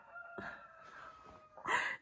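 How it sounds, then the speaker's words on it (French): Roosters crow back and forth, one of them a neighbour's white rooster, with two drawn-out crows heard in quick succession, the second louder and closer, in a quiet outdoor setting. "Ils se répondent avec le coq du voisin, qui lui est un coq blanc."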